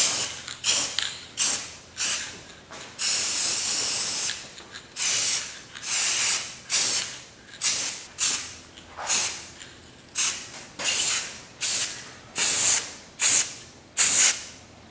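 Spray finish goes on a wooden star as a second coat in repeated short hissing bursts from a spray can, some longer, most rapid and evenly paced, close and fairly loud with no talking.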